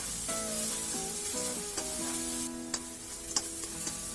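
Garlic sautéing in a pan as the base for a chicken kare-kare: a steady, close sizzle runs throughout, with a few sharp clicks near the end.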